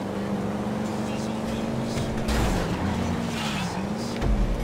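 Cars race in Grand Theft Auto 5 with a continuous, close engine whine that rises and dips as they accelerate. Occasional bumps and thuds break through the steady motor noise.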